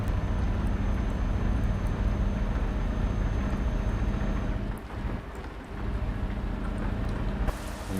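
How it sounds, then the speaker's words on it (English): Rain in Euro Truck Simulator 2 heard from inside a truck cab, a dense steady wash over a low engine rumble that dips briefly midway and then resumes. "We do have a bit of rain."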